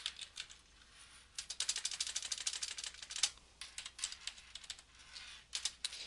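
Someone types on a computer keyboard while entering values in CAD software, quiet and close, a fast run of clicky keystrokes in bursts with brief pauses between, no speech.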